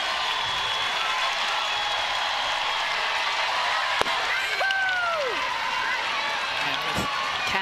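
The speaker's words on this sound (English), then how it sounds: "here comes the home crowd" Home crowd at a women's college softball game, Oklahoma hosting Tennessee, keeping up a steady, loud roar of cheering throughout, with a few whistles rising above it and a sharp knock partway through.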